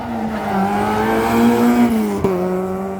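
A Peugeot 106 group N rally car is driven hard up a hill climb course, its engine howling at high revs close by. The pitch holds steady and then drops sharply as the driver shifts gear.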